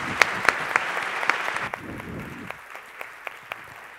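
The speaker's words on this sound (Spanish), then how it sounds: "Un aplauso mucho más grande, porque creo que es un honor tenerlo acá." A burst of clapping from a crowd at a journalism award ceremony, loud at first, then thinning out into scattered claps that fade toward the end.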